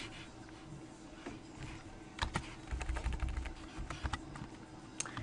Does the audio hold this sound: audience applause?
no